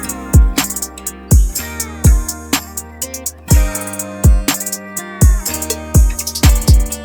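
A layered country rap beat plays tambourine and cowbell percussion over punchy kick drums and open hi-hats in a steady, syncopated loop. It is loud, close and alone, with no voices.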